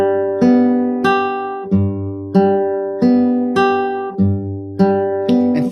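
Fingerpicked acoustic guitar playing a basic 4/4 accompaniment pattern, steady repeating plucked notes and bass strikes in an even rhythm, close and clear with no talking.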